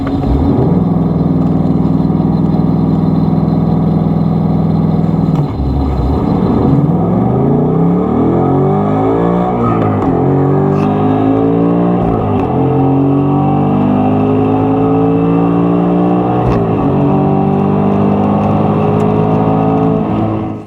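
Ford Mustang Dark Horse V8 launching in drag mode with launch control and traction control on: a loud steady hold at the line, then a hard launch with rising revs and quick gear changes pulling through the run.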